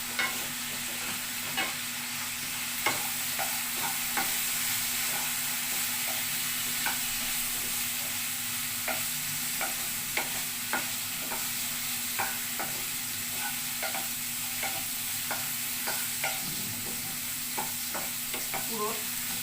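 Chopped onion added to frying vegetables, including Malabar spinach and bitter gourd, sizzles softly in a pan while being stirred, with steady frying hiss and regular light scraping taps of a spatula throughout.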